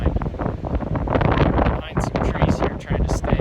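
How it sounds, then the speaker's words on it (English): Gusty wind blows through aspen timber on a cold elk hunt, roaring and buffeting the microphone in uneven surges, loud and close, with no talking. "So it is windy and cold,"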